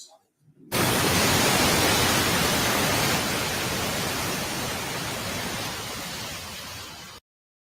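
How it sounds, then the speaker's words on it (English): A white noise machine hisses with loud, broadband static that begins abruptly after a brief quiet start, holds steady for several seconds, then cuts off sharply. "Put the white noise on."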